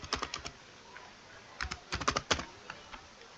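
Close-up clicking of keys on a computer keyboard, quick bursts of typing separated by short pauses.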